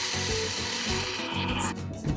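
Spices for Armenian basturma cured beef are ground quickly, a close, steady rasping grind lasting about two seconds with slight dips in intensity.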